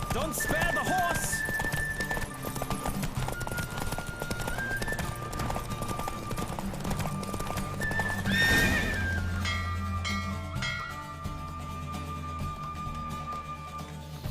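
Galloping hooves of a racing horse in The Witcher 3, steady clip-clop under music and speech, rising to a loud burst near the finish with a neigh before the hoofbeats fade into quieter sound.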